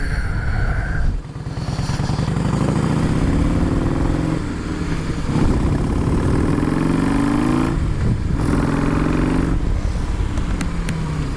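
A 2016 Harley-Davidson Heritage motorcycle being ridden, its loud engine rumbling close by, rising and falling through gear changes and throttle swells with wind rush over the whole ride.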